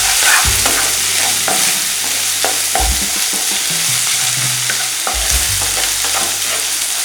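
Egg momo filling being mixed in a hot pan, with steady loud sizzling and repeated scraping, stirring strokes of a spatula against the pan surface, with no voices.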